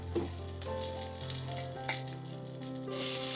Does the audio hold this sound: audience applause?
no